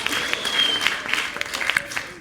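An audience at a live stand-up comedy show breaks into a round of applause, steady dense clapping with a few sharper claps and some crowd noise, fading toward the end.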